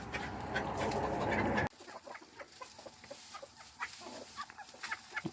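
Chickens cluck in a garden setting in the morning, a dense, loud burst of fowl noise at first, then scattered nearby clucks and chatter continuing more softly.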